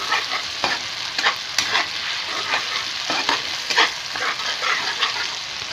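Steady frying sizzle with repeated scraping strokes of a spatula stirring a spice paste in a wok, close and continuous.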